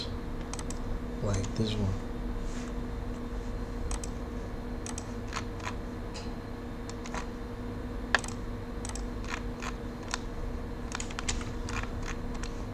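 Light, scattered computer keyboard key presses click softly during SketchUp 3D modeling work, heard over a steady background hum while a person speaks briefly.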